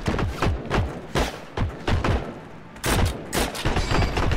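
Gunfire in the Heroes & Generals video game comes as repeated sharp shots and thuds in irregular bursts, loud and close throughout, with no talk over it.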